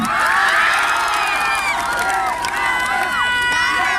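A festival crowd in Cabanatuan City cheers, whoops and claps for Troy Montero, loud and continuous, with high shouts and whistles rising and falling over a dense roar of voices.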